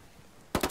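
Video game gunfire: a short burst of three or four rapid shots, loud and close, arriving abruptly after a quiet moment.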